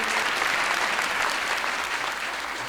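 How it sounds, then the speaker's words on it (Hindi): Dense, steady audience applause fills a Hindi poetry gathering, many hands clapping loudly and continuously from start to finish, with no pauses or speech. "इसलिए जोरदार तालियां बजाइए, बजाते रहिए।"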